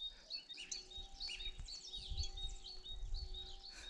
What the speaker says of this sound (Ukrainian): Прилетіли шпаки, он як виспівують.